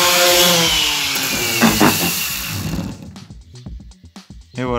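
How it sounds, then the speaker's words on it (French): A small orbital sander buzzes close and loud as it strips excess glue and edge banding after veneering, then cuts out, leaving faint scraping and handling noises. "on va enlever le petit surplus de colle et de champ qui nous reste après le plaquage uniquement avec une petite ponceuse orbitale"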